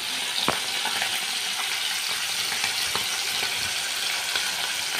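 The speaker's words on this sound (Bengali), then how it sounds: "এবারে আমি এটা প্রথমে ভেজে নিচ্ছি" Small mola fish (mourola) sizzle steadily and close in hot oil, with a few sharper pops and crackles breaking through the constant frying hiss.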